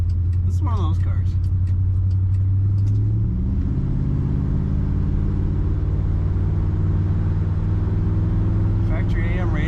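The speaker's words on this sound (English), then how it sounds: "you ever start one up and it just feels kind of refined, like it idles smoothly, purrs nice and low right away" A 1965 Mercury Monterey convertible's engine idles with a low, steady rumble close by, running smoothly throughout, with a brief shift in tone partway through and a few faint background noises.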